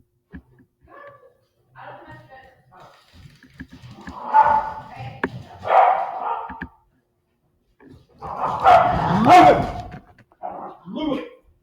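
A dog named Ludwig lets out short barks and whimpering yips indoors, with bursts interrupting the quiet between.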